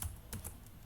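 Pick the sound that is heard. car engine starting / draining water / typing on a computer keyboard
typing on a computer keyboard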